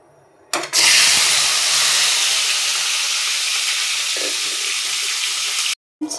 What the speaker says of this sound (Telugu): కడిగి పక్కన పెట్టుకునే టమాటాలు నేను 4 వేస్తున్నాను.